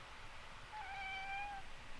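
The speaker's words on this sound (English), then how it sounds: "Spy Cat likes to show up and steal the show" A cat lets out a single drawn-out meow, close and clear, rising then held for nearly a second over a faint background hiss.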